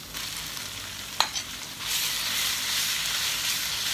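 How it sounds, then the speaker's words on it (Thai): Pork stir-fried over high heat in a pan while cooking roasted wild seeds, giving a steady loud sizzle and hiss that swells midway, with a sharp utensil scrape near the start. "พิ่มไฟแล้ว เอาหมูลงพัดเลยเจ้า"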